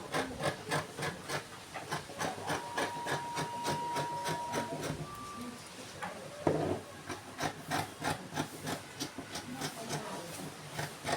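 Scissors cut through four stacked layers of fabric for a hair bonnet, giving a steady train of rhythmic crunching snips close by at a soft level.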